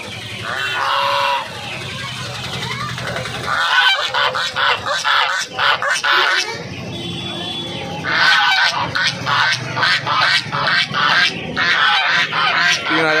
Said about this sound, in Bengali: দেখতে পাচ্ছ রাজহাঁস দুটো